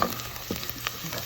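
Garlic and spices, ground coriander among them, stirred in a hot pan, giving a brief close sizzle broken by a few light scrapes and knocks of the spoon.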